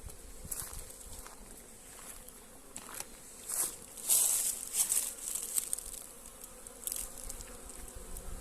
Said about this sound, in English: they're busy, busy, busy bees